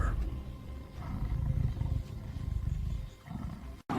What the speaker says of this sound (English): Roars echo through the misty canopy as each tiger, battered and bleeding, fights with primal ferocity.